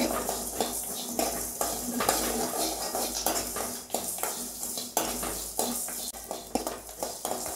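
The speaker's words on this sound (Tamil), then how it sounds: "சுக்கு, மஞ்சள் கிழங்கு லைட்டாக வறுத்தா போதும்." Dried ginger and turmeric root are dry roasted in a pan, with a steady, busy scraping and rattling of a utensil against the metal that keeps on with light clinks throughout.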